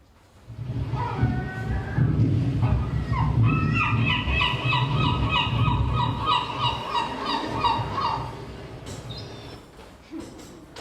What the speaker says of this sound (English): now we'll move on to the actual gulls